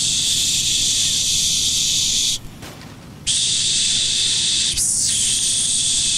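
A voice imitates a water sound effect with a steady loud hissing rush, broken by a brief pause before it resumes and continues to the end.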